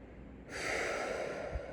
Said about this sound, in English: first we could exhale, right?